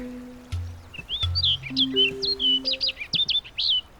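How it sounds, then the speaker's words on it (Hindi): A yellow bird chirps cheerfully in a courtyard, a rapid run of bright, high tweets and short calls over several seconds, with low sustained musical tones playing underneath. "आंगन में वो पीला पक्षी खुशी से चहक रहा है।"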